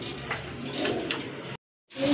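Domestic pigeons, a pair among black pigeons with feathered feet, coo softly and repeatedly at close range, the sound cutting out briefly before resuming.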